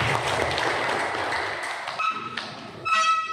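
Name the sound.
audience applause for LPKPK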